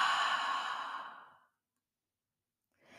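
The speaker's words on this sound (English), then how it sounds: "push out all the air through your mouth" A person exhales forcefully through the mouth during a guided deep-breathing exercise, a single long breathy outbreath fading over about a second and a half, followed by silence and the start of another breath.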